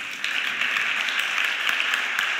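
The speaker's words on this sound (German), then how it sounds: "ein Applaus gerne" Audience applause at a conference panel on ethics and technology as guests are called onto the stage, a steady wash of clapping from a seated crowd that rises after a brief quieter start and holds evenly throughout.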